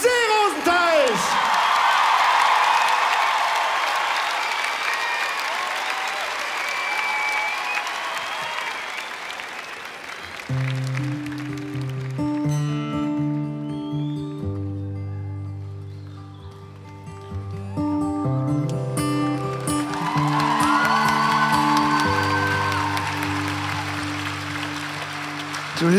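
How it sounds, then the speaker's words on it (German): Applause and cheering from a live concert audience for a performance, loud and dense for about ten seconds, giving way to music, then swelling again near the end. "Begrüßt also nun mit einem kräftigen Applaus"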